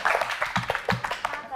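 Classmates in a grade 6 maths classroom applaud group two, a short burst of scattered hand claps mixed with children's voices talking over it.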